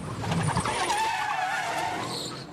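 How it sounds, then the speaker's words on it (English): A race car at a Trans Am Motor City 100 race locks its brakes and spins out, its tires squealing and skidding loudly, then fading as the sliding slows. "locked up the brakes, and spun it around"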